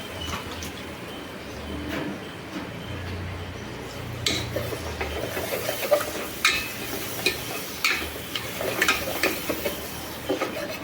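Onions are frying in chicken masala for biryani, a low sizzle under repeated stirring scrapes and utensil knocks that grow busier and louder toward the end.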